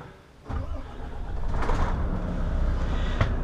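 A Volvo FMX truck engine in a video game cranks and catches, then settles into a steady mid-pitched idle with a few clicks and clunks over it, close and fairly loud.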